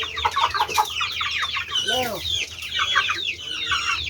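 A flock of 45-day-old broiler chickens on a farm cluck and chirp continuously at close range, overlapping calls forming a busy, murmuring chorus.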